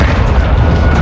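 An RPG explosion in the video game Modern Warfare 2, heard as a loud, dense, rumbling boom that fills the whole second with heavy low-end blast noise.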